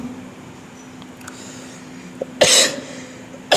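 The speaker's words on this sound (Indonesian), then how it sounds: "ini mohon maaf batuk" A man who blames lingering COVID effects gives one harsh, close cough near the end of a quiet stretch in a hall, with a steady low hum beneath. A second short cough or throat-clear begins right at the close.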